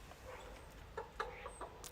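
Chickens in a garden make soft, brief clucks, a few scattered short calls over a quiet, faint background hiss.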